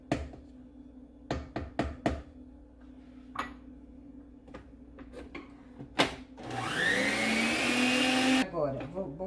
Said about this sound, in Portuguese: Mas essa batedeira, ela é ótima. Ela praticamente trabalha só.